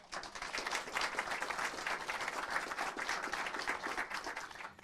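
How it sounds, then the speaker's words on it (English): An audience at a city council meeting claps steadily for a deputy receiving a life-saving award, producing dense, even applause that carries through to the end. "Let's give him a round of applause."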